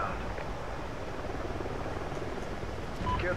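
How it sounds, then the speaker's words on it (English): A helicopter arrives in Call of Duty: Ghosts multiplayer, a steady low rotor drone holding at moderate level throughout, with a slight swell near the end. "Friendly chopper inbound."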